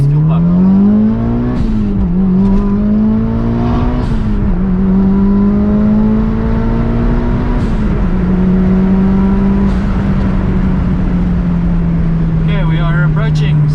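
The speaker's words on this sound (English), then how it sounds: "I'm just going to do a little first gear, second gear, as many gears as I possibly can through the rev range" A Mitsubishi EVO fitted with a 340LPH E85 Quantum fuel pump pulls hard through the gears, its loud engine note climbing in pitch, dropping briefly at each of several shifts, then rising again, with a voice talking over it throughout.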